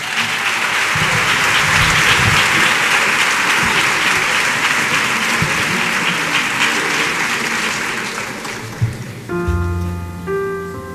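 Loud, sustained audience applause for a flamenco singer at a Córdoba performance, steady dense clapping that fades near the end as a guitar begins to play.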